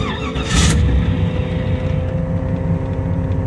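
A small-block Chevy 383 stroker V8 fires up after a couple of pumps and settles straight into a loud, steady, rumbling idle close by, with a brief sharp burst as it catches.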